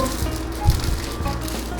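Rain patters steadily on plastic sheeting, a dense, crackling wash of small taps with a few heavier thuds, close and continuous.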